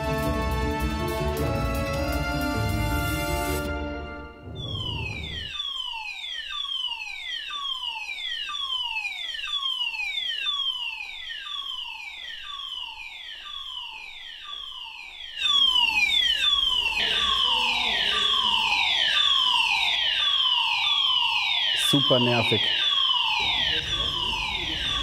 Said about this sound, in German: Lass uns mal den Rauchmelder abschalten.